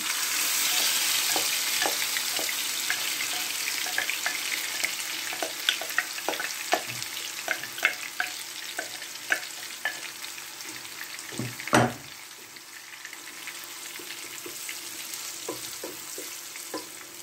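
Onion and spring onion fry in hot oil, a steady close sizzle with scattered crackles and pops, plus an occasional clink of a stirring utensil.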